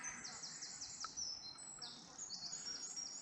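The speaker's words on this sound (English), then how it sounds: "as usual, got the beautiful bird song all round us" Birds sing and chirp all around on a countryside walk near Polecat Lane toward Hindhead, a steady chorus of high trilling calls with faint rustling beneath.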